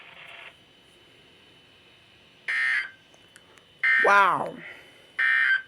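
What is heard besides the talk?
weekly weather radio warning alarm test tone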